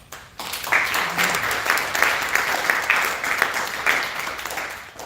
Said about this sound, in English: a round of applause for Sarkis Yedelian